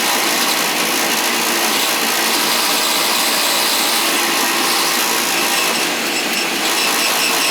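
A Beckett oil burner power venter in the field, with a bad motor fan, runs as a loud, continuous roaring whir with a rough, vibrating edge and no pauses.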